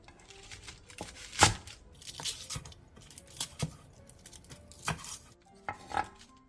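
A knife cuts napa cabbage lengthwise and then diagonally into pieces on a board, giving a series of separate, fairly close chopping thuds at an irregular pace, some sharper and louder than others.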